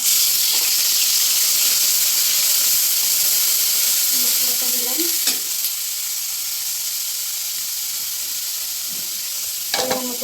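Ground spice paste fries in hot oil for a tilapia curry with potato and eggplant, a loud, continuous sizzle and hiss close by, broken by a couple of sharp spoon scrapes.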